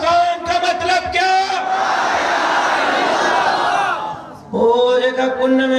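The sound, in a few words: crowd chanting slogans in response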